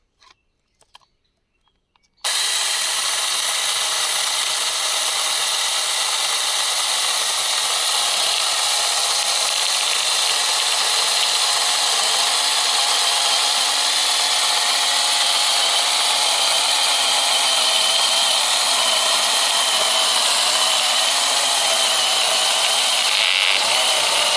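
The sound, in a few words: portable pole chainsaw cutting a branch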